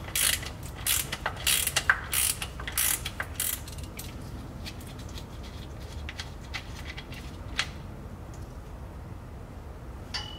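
A hand ratchet loosens the 18 mm fill bolt on the transfer case of a 2015–2020 Cadillac Escalade, with close, quick clicking bursts early on, then quieter intermittent clicks and handling noise.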